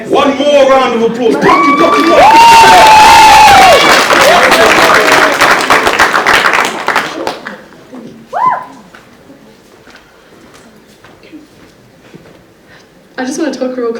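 Loud applause and cheering from a school assembly crowd, with whoops and shouting voices over dense clapping for several seconds before it fades to quieter murmuring and brief shouts.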